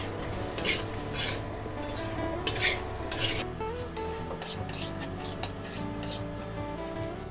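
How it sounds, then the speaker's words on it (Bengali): A spoon stirs masala for egg curry in a pan, scraping repeatedly and rhythmically against the metal over a steady frying sizzle, close and continuous. "আবারও একটু ভালো করে নাড়াচাড়া করে নেব।"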